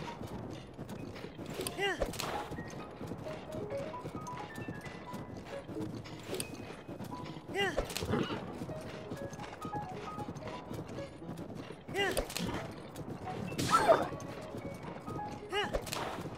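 Horse hooves galloping in the video game Zelda: Breath of the Wild: a continuous rhythmic clip-clop with occasional creaks of gear, steady and close throughout.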